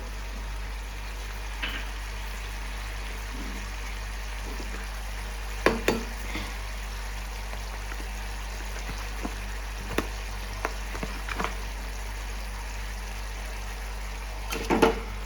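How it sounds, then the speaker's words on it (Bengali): Fish masala simmers and fries quietly in a pan over a constant low hum, with occasional scraping knocks and clatters as it is stirred, the louder clusters near the middle and end. "আমি দিয়ে দিলাম নুন দিয়ে একটু নেড়ে চেড়ে ভাজা মাছগুলো দিয়ে দেবো"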